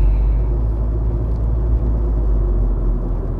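Steady road traffic rumble heard from inside a car driving at night in Bahrain, a continuous low engine and tyre drone with a constant loudness and no talk.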